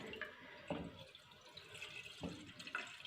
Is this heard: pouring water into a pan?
yes